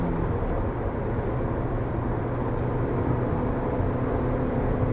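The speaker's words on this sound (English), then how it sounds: "Got it in third. Let's see how we can get up to. Definitely accelerating a lot quicker than the standard version" A Vauxhall Astra J accelerates in third gear on the Millbrook test track, a loud, steady engine drone blended with road and wind roar heard from inside the cabin, continuous throughout with no voices.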